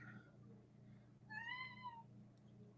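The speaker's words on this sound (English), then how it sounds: "Can you guys hear my cat crying?" A pet cat named Smokey gives a single clear, rising-and-falling meow cry of about a second, heard faintly in the background over a low steady room hum.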